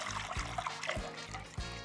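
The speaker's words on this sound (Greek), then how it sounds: "θα ρίξω 1 λίτρο νερό ή 4 κούπες στο 250 ml" Water being poured into a bowl in a home kitchen, a steady close trickle and splash running throughout with a few brief thumps, no voices.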